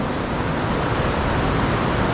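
Deafening, steady broadband roar of underground cascades deep in the Rupt-du-Puits cave system, close and unbroken like heavy rushing water filling the passage.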